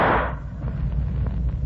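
A single gunshot cracks loud at the start in an old radio crime drama, the bullet striking a tree, then a short decaying rumble and quiet afterward with no talk.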